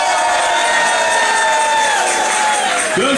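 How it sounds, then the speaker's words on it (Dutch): A party crowd at a Limburg carnival-style evening cheers and applauds for the DJ, a dense, loud, steady roar of cheering and clapping filling the whole stretch. "geef een applaus"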